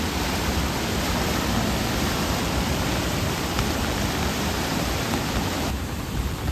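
Monsoon floodwater rushes past a check dam in Mangeli village in the Konkan, a dense, steady roar of churning water that stays loud and constant throughout.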